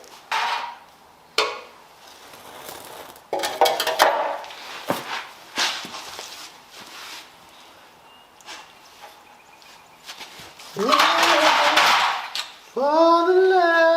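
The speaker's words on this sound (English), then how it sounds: "Let's get this pan out." A pan being pulled out of a kitchen cupboard, with loud metallic clanks and clattering of pots and pans in bursts, plus bangs and knocks of cookware being moved nearby.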